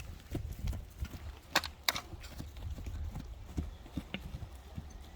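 A young horse being led on foot, its hooves clopping irregularly at close range, with a few sharper hoof strikes standing out over a quiet outdoor background.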